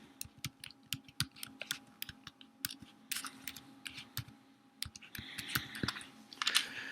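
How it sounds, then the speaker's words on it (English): Quick keystrokes on a computer keyboard as the alphabet is typed into a spreadsheet cell, a close, crisp, irregular run of clicks with no talking. "Let me say I type the alphabet in this one cell."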